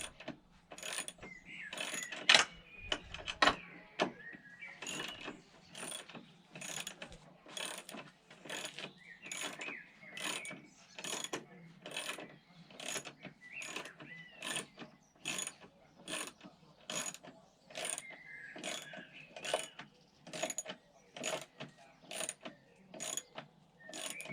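Ratcheting wrench tightening a fastener on a Volvo top suspension mount during replacement, a steady run of about twenty-five sharp rhythmic clicks, close and fairly quiet, with no talking.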